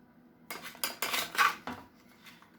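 Mushrooms being served onto a plate, with about five sharp clinks and scrapes of metal utensils against dishware, close and quick, then a quiet tail.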